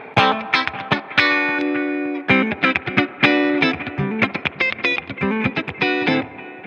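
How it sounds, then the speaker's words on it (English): Electric guitar played with a clean tone and a light echo effect, a run of plucked notes and sustained chords with soft repeats trailing behind, fairly loud and close with no voices. "I find that I use a lot of echo really lightly all the time"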